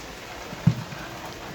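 Rain falls steadily during outdoor cooking in cold weather, a soft, even hiss with one brief low thump partway through and no voices.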